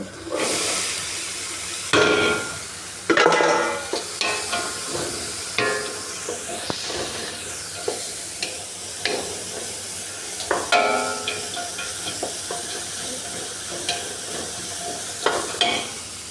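Meatballs sizzle and fry in a pan, with a steady hiss and several louder bursts of spattering and stirring clatter spread across the stretch, close by and with no one talking.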